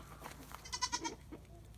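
A goat bleats nearby on a farm, a single wavering, nasal cry rising and falling in the middle, with faint rustling around it.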